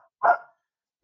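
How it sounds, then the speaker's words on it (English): A single sharp dog bark, close and fairly loud, followed by silence, with the start of another bark cut off at the very end. "That's my dog"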